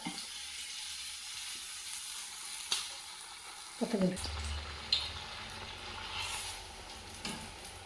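Mirchi bajji, batter-dipped stuffed green chillies, dropped into hot oil, bursting into a sizzle after a few soft clatters, steady bubbling frying throughout at moderate level.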